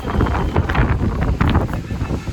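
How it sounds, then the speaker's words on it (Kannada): Gusty wind buffeting the microphone at a water park in Kalaburagi, a loud rumbling roar that swells and fades in uneven bursts. "ಗಾಳಿ ಗಾಳಿ."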